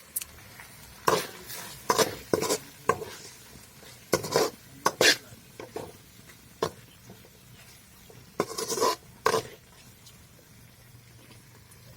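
A pan of Maggi noodles being stirred with Maggi masala, a metal spoon scraping and clinking against the pan in irregular bursts over a soft sizzle, with quiet gaps between strokes.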